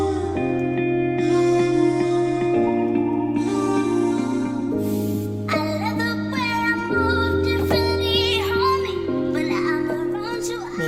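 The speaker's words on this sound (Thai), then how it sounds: "อันนี้คือเสียงลำโพงนะครับ" Music plays from a small Ultimate Ears Wonderboom 2 Bluetooth speaker, steady sustained tones and melodic notes at moderate volume, with no talking.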